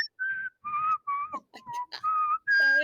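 Someone whistles a short tune of sustained, clear notes with small pitch slides, loud and close, one phrase after another with brief gaps and no speech.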